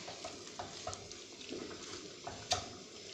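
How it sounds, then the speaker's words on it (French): Chard frying quietly in a pan with cumin, pepper and salt, a soft sizzle broken by several light stirring clinks and scrapes. "ودروك نخليه يتقلى"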